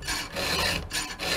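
Close rasping strokes of a hand file sharpening a chainsaw chain on a truck tailgate outdoors, about four rhythmic back-and-forth scrapes with short gaps between them.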